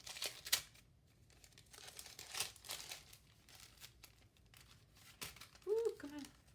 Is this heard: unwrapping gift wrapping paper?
yes